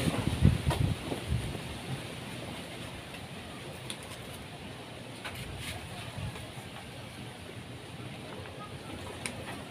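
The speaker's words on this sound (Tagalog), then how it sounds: "ang lakas ng hangin." Steady wind noise buffets the microphone, with a few louder bumps near the start and a constant rushing hiss throughout.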